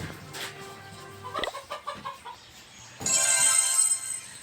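A fowl-like bird calls repeatedly in short clucking bursts, followed by a louder, harsher squawk nearby.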